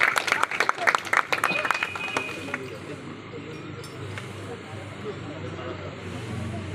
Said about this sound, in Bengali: বড় করে হাততালি